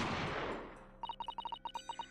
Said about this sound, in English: a gunshot rang out over his